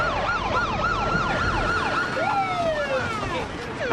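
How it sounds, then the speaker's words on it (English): Emergency vehicle sirens wail loud and close in a Chicago street scene, one rising and falling tone cycling rapidly while a second siren sweeps more slowly, over steady traffic rumble. "Maybe you get the sirens turned up so people in Pittsburgh can hear you coming."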